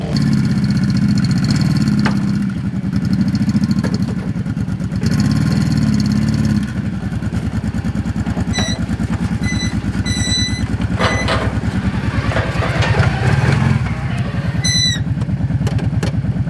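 A four-wheeler ATV engine idles and revs as the machine drives out of a custom cargo trailer toy hauler, a loud, close, steady mid-pitched motor drone with brief higher squeaks and rattles partway through.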